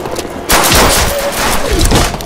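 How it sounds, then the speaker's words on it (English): Shotgun blasts from a trench gun in Call of Duty: World at War zombies mode, loud booming shots arriving in quick succession after a short quiet start, densely layered with other game gunfire. "It's a trench gun."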